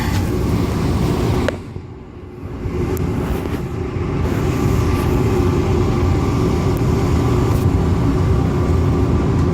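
An airport terminal train rolls away with a steady mechanical rumble and hum, briefly dipping then building to a constant loud drone.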